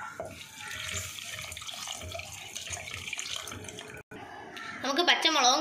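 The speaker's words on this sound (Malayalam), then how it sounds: "നമുക്ക് ജാറ് കഴുകി ഇതിൽ ഒഴിച്ചു കൊടുക്കാം" Water swirled in a mixer jar to rinse it is poured into a Kerala-style fish curry, a running, splashing pour heard under steady talk and rising toward the end.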